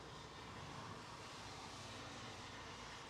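Boeing 787-9 airliner at London Heathrow, a steady, broad engine roar at a constant level with no other sounds.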